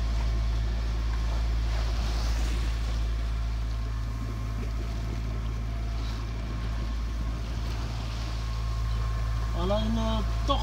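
A sailboat under engine motors through rolling waves, its steady low drone continuous and close, with wind noise over the microphone and a voice briefly heard near the end.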